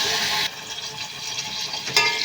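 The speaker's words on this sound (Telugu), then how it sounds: "ఇప్పుడు అయితే ఆయిల్ అయితే కాలుతుందండి మసాలా అయితే వేసేస్తున్నాము వేసేసి బాగా ఫ్రై చేస్తున్నాను" Masala frying in hot oil for restaurant-style mutton keema, a steady close hiss and sizzle that drops down after a loud start, then surges briefly again near the end.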